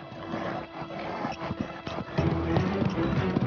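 Horse hooves clip-clop steadily during a riding session in an arena, a continuous fairly soft rhythm of hoof beats under faint background noise.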